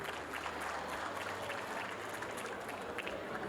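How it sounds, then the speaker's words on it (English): Faint, dense applause from a crowd at a community achievement celebration, a steady patter of many hands clapping at a distance throughout. "huge round of applause, please, to Thiab and Majang"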